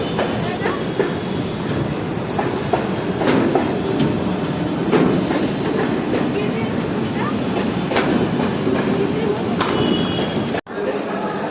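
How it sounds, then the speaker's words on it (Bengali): A local train rolls near Sealdah station in Kolkata, giving a loud, continuous rumble of wheels on rails with intermittent clacks and faint metallic squeals, heard close and steady throughout. "এটা দেখতে হচ্ছে একটা লোকাল ট্রেন আসছে এদিক থেকে"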